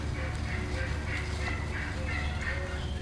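Male wild turkeys gobble in repeated bursts while strutting at a moderate distance over a low, steady background rumble.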